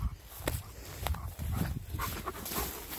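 A dog panting and snuffling close by as it follows along on an outdoor walk, steady breathy bursts with a few faint thumps and rustles.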